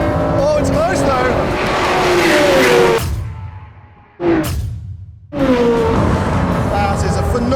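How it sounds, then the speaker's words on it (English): Loud engines roar as a 2023 Corvette Z06 and a 2022 Ford GT drag race at full speed, with tire squeal and sharp cutoffs between passes; voices are heard over the noise. "That is a phenomenally fast car."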